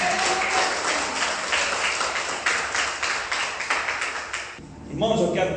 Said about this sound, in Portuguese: Se as palmas são do Senhor, tem que ser mais forte, amém?